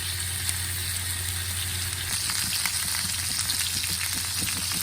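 Chicken frying in a pan for adobo, a dense continuous sizzle and crackle of hot oil, steady and close with small spitting pops and no voices.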